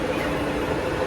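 A Mumbai local train rumbles along in a brief, steady, noisy roar heard from inside a carriage.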